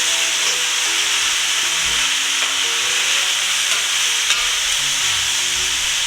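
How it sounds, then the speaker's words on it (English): Beef stir-fries with broccoli, carrot, peppers, onion and scallion, a dense continuous sizzle broken by scraping stirs and occasional clacks. "We'll add the broccoli, the carrot, the peppers, onion and scallion, and give it a quick stir fry."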